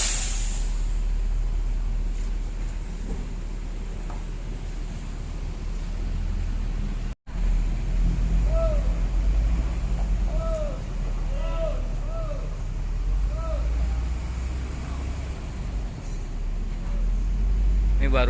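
Tour buses maneuvering to park at a bus pool: a low engine rumble and road hiss with a steady drone, then a series of short high chirping beeps in the middle, heard nearby with some talking.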